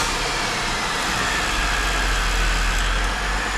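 A Holden VY car engine runs at a steady idle, a loud, close, continuous rumble with a low drone and no voices.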